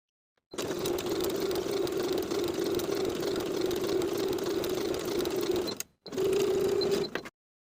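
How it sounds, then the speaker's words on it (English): A sewing machine runs steadily for about five seconds, stitching a swimsuit's lining and main fabric together along a seam; it pauses briefly, then runs again for another second, a close, even motorized whir. "we'll sew the lining and the main together along this seam directly on top of the original stitching line"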